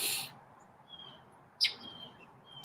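A bird gives short, sharp chirps while chasing another bird away, a few quick high calls scattered over faint background hiss, fairly quiet and near.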